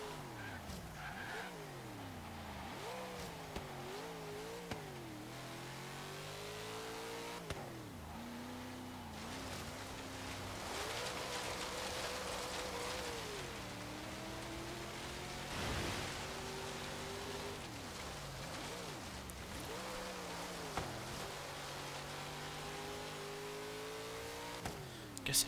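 A 1973 AMC Gremlin X with a turbocharged 7-litre V8 in Forza Horizon 3 revs hard and continuously, its loud engine note rising and falling through repeated gear changes with occasional tire squeal and no pauses.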